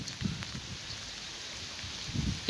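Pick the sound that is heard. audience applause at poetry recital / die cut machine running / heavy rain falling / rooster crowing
heavy rain falling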